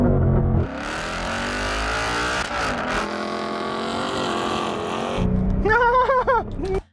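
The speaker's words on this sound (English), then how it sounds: "sounds like a diesel" A diesel car engine roars hard as it accelerates at full throttle in a drag race, a loud sustained rising drone, ending with a revving burst before it cuts off.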